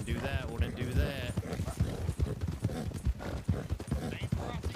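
Galloping horse hooves in a Wild West roleplay game, a quick steady clip-clop beat running under loud overlapping talk.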